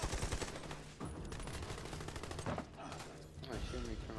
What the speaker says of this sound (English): Oh, he's shooting me from up there.